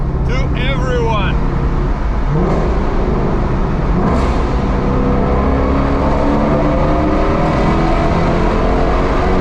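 A car drives through a road tunnel on the Croatian coast, its engine drone loud and steady with a boomy enclosed rumble throughout, close and continuous.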